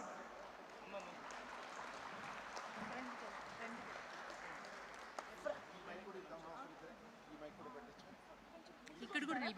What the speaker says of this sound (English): may we all applaud them with a huge round of applause